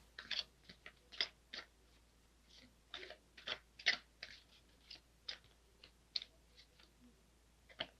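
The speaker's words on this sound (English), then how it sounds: "I was told to keep shuffling" Tarot cards being shuffled by hand, a series of soft, crisp riffling clicks and snaps in irregular bursts, close up and quiet, with no talking.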